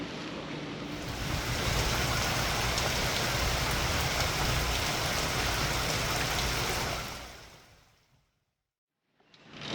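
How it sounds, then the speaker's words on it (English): Heavy rain from a passing squall pours in a dense, loud roar for several seconds, then fades out to near silence before a faint return of noise. "Hopefully this rain little squall will kind of skirt us"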